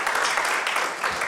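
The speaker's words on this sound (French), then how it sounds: "Je crois que vous pouvez applaudir Jean-Pierre qui le mérite." Audience applause at a French cultural gathering on poetry and spirituality, a steady, dense wash of clapping from many hands, fairly close and loud, running through the whole short stretch without talk.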